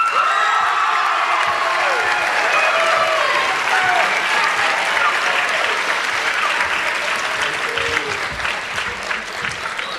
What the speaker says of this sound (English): Please join me in a round of applause for Anthony McCormick.